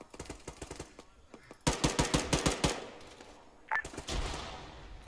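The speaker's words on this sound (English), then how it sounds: "We're taking heavy fire from our position." Bursts of rapid automatic gunfire crackle in a military combat video game, heavy volleys stacking up in rhythmic clusters, then a few isolated shots, fairly close and loud.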